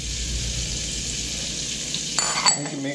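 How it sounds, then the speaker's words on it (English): A chunk of butter sizzling in a hot homemade pan while burbot cooks, a steady frying hiss with scraping and clinks of a utensil stirring toward the end. "Throw another nice chunk of butter in there."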